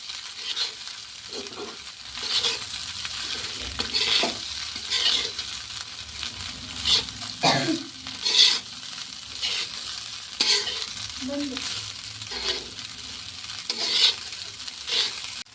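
Poha is stirred and fried in a pan, steady sizzling broken by repeated scraping strokes of a spoon against the metal, close and fairly loud, with no talking.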